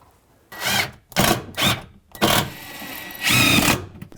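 A power drill drives screws into plywood cabinet tops in four short, loud whirring bursts, each separated by a brief pause.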